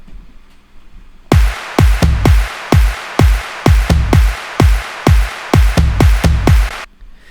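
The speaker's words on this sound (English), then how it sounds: "So all together, my drums sound like this for the drop." An electronic drum pattern for a remix drop: punchy kicks with a trimmed low end and lighter, airier, reverb-washed hits on top, looping in a steady driving rhythm after a brief quiet lead-in, loud and alone.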